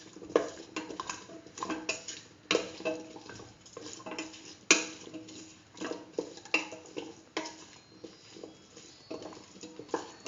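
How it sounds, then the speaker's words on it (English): Rice with potato and chayote being stirred in a pan, giving a string of irregular scraping and clinking taps of a spoon against the cookware, moderately close and with no talking. "Mix in the salt."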